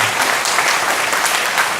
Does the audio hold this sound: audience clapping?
yes